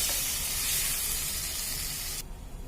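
Chopped tomatoes sautéing in a pan of squid gravy give off a loud, even sizzling hiss that cuts off sharply near the end, leaving only a faint residual bubbling.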